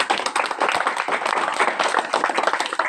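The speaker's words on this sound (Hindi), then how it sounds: "जरा जोरदार तालियां बजाइए प्लीज।" Audience clapping at a welcome event in Rajasthan, India, a dense, steady crowd applause filling the whole stretch, close and fairly loud with no talk over it.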